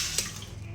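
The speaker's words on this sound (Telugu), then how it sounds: "ఈ ప్యాన్లోనే వాటర్ అయితే వేసేస్తాను," Water pouring into a cooking pan, a short steady splash and trickle heard up close with no talking.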